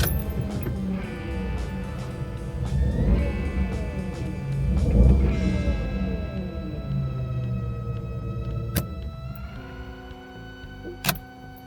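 A Renault Twingo 3 with a camshaft sensor fault cranks repeatedly in a start attempt, the starter whirring and rising and falling near the mic before a whining electrical tone and a sharp click at the end.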